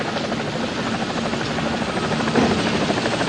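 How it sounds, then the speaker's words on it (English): Helicopters approach to land on a ship's flight deck, a loud, steady rotor thump and engine roar filling the air with no pauses. "All helos in starboard delta so we clear them for landing."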